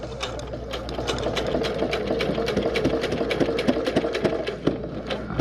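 A sewing machine stitches a fishing rod tube cover that has basting tape in the seam, close and fast. A busy run of rattling stitches continues without pause, with small irregular knocks throughout.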